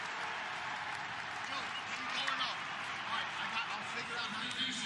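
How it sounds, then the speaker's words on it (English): A stadium crowd at a Concacaf Nations League Finals football match between Canada and the United States gives steady, sustained applause, a broad wash of clapping with a commentator speaking over it. "Ricardo Pepi gets a solid applause."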